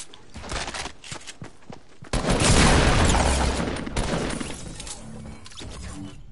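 Gunfire in the Fortnite Battle Royale video game: a few sharp shots early, then a sustained loud burst of rapid fire and crashing debris that fades into lighter shots and footsteps.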